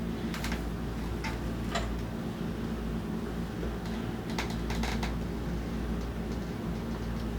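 A sewing machine top-stitching through the back panel of a small handbag, running as a steady low motor hum with rapid ticking needle strokes and a few brighter clicks, close by, with no voices.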